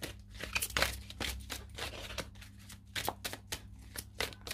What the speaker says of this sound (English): Give them a good shuffle because I haven't really used this deck before.